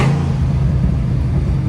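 A 2010 Mustang GT with an automatic gearbox rumbles steadily through a downshift, its deep engine drone continuous and close for the whole moment, no voices over it.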